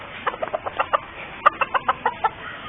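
Siam breed chickens cluck on a farm cleaned up after Typhoon Glenda: about a dozen sharp, evenly spaced clucks, close and fairly loud, with no talking.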